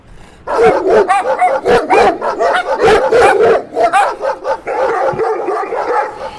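Several dogs bark and yip excitedly in a rapid, overlapping chorus as they chase a jackal through town streets, loud and continuous, with some higher whimpering yelps mixed in.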